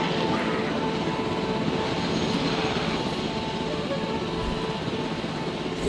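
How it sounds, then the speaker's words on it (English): A helicopter hovers in the background of a video game, a continuous dense rotor and engine roar that stays steady and fairly loud throughout with no talking. "That's what that helicopter in the background is doing."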